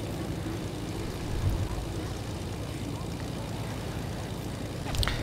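Steady airplane engine drone from inside the cabin during a battle-royale drop in a PUBG-style video game, a continuous low rumble with brief swells.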